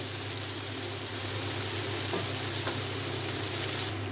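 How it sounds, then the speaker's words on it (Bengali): Constant, loud sizzling of a spice paste with tomato and green chili frying in a hot pan for boal fish bhuna, a bright crackling hiss with a faint scrape or two. "এখন মশলাটা কষানো হয়ে গেছে"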